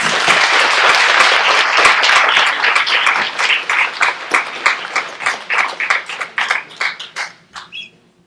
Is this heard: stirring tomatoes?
no